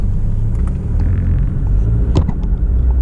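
A car driving on the road, heard from inside as a loud, steady low rumble with light rattles and faint clicks. Nobody talks.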